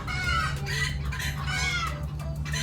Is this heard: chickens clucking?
yes